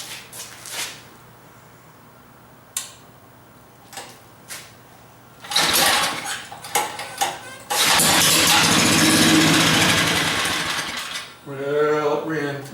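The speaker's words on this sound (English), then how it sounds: "I'll give it one more yank, see if we can get it going" The small engine on a homemade gadget bike is yanked with a pull cord, giving scattered clunks and rattles, then coughs to life and runs roughly and loudly for several seconds before dying, with a voice speaking briefly at the end.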